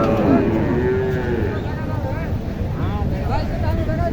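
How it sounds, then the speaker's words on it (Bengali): At a busy cattle market, a cow lets out a drawn, low moo near the start, over a steady crowd hubbub and scattered voices. "গরুটা চমৎকার।"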